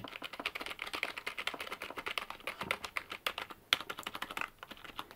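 Rapid, soft, muffled typing on a budget gaming keyboard with rubber dome switches, a quiet close patter of keystrokes at an irregular quick rhythm, heard alone.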